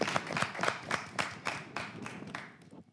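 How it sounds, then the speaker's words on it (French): Applause from an audience at a live French comedy show, a run of fairly even claps with periodic louder bursts that gradually thin out and fade by the end, heard alone without talk. "On l'applaudit."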